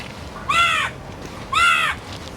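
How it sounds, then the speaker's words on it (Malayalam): A Sri Lankan crow caws twice, two harsh, clear calls about a second apart, standing out plainly against quiet outdoor background noise. "ഇതാണ് ശ്രീലങ്കൻ കാക്ക."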